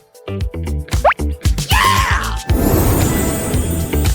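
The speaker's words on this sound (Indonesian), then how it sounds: "Dimulai dengan tetesan kecil." A quick series of close, wet plops and drips of soda, one after another, followed by a fizzing, bubbling rush of liquid.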